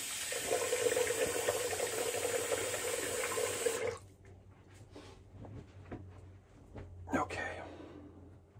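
Hot water runs steadily from a tap into a sink for several seconds during a wet shave, then shuts off, followed by quieter splashes and handling sounds.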